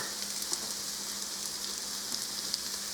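Potatoes for hash browns frying in a hot cast iron skillet, a faint, even hiss of sizzling oil with scattered tiny pops, no voices.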